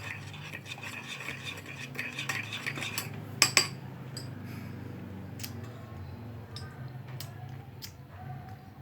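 A spoon stirs coffee in a cup, a run of close metallic clinks and scraping swirls, with two sharp louder taps partway through, then quieter scattered clinks.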